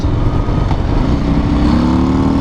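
A Harley-Davidson FXDR 114 motorcycle's engine rumbles deep and loud up close, its tone shifting and rising slightly toward the end of the short burst as the rider downshifts.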